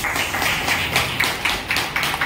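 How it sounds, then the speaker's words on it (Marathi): An audience claps together in a burst of quick, overlapping hand claps, close and fairly loud, keeping an irregular rhythm for a couple of seconds. "तो स्वतःसाठी एकदा टाळ्या झाल्या पाहिजे"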